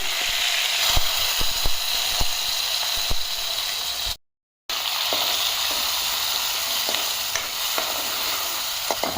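Ginger garlic paste frying in very hot oil, a loud, dense sizzle with sharp spatters and occasional ticks of stirring, cut by a brief silent gap partway through.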